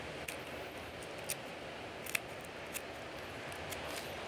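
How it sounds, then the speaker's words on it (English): Kitchen scissors cut along the back of a raw shrimp, giving a few faint, sharp snips spaced over a quiet background. "push your kitchen scissors and cut"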